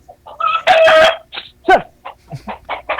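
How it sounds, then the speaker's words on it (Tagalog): Chickens clucking and squawking close by in a run of short, irregular bursts, with one louder cackle near the start. "Kasi may manok kayo dyan."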